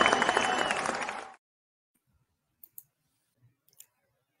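Hand-clapping applause bursts out for about a second, loud and dense, then cuts off sharply into near silence broken only by a few faint scattered clicks.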